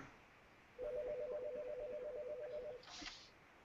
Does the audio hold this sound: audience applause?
no